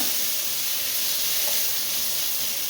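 Continuous hissing sizzle of green chillies and aromatics being sautéed in hot oil for jackfruit biryani, steady and close with no voices.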